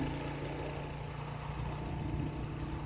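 A Royal Enfield Hunter 350, a roughly 20-horsepower single-cylinder motorcycle, idles steadily at close range, a continuous low throbbing engine note with no voices over it.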